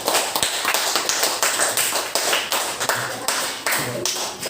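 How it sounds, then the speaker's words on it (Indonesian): A school class claps for group 4 after a physics and chemistry lesson, a brisk round of indoor applause with sharp, closely spaced claps that stay loud throughout. "Tepuk tangan untuk kelompok 4."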